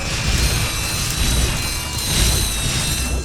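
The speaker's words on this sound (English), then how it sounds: "The code bot just plugs in like so, and now we have access to this area" A code bot plugs into a lock in the Ratchet & Clank video game, producing a continuous whirring mechanical hum with metallic ringing tones and swelling bursts, loud and close, without speech.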